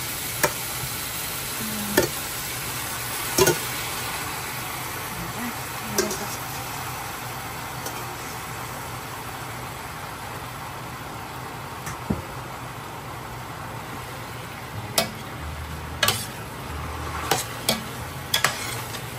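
Pork belly sizzles steadily in hot oil in a pan while being cooked for pochero, a constant close frying hiss broken by scattered clicks and scrapes of stirring.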